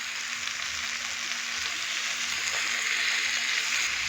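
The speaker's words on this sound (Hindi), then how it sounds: "तकरीबन 5 से 6 मिनट के लिए चिकन को अच्छे से फ्राई कर लेंगे" Chicken pieces frying in a pan for tandoori chicken made without an oven, giving a steady, even sizzle that runs throughout at close range with no talking.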